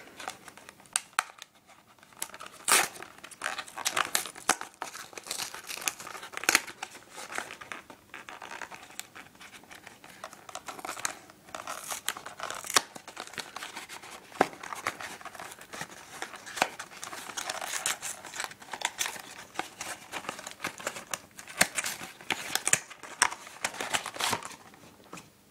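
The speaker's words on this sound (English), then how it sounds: "I'm going to open the structure deck first and then the packs afterwards" Yu-Gi-Oh! Dragons Collide structure deck packaging being opened, with continuous close crinkling, scratching and tearing of plastic and cardboard, busy and steady throughout, no talking.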